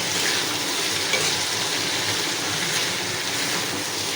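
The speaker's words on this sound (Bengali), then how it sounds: "চিংড়ি দিয়ে করলা ভাজি" Bitter gourd fries with shrimp in hot oil, giving a steady, dense sizzle that stays loud and even from start to finish.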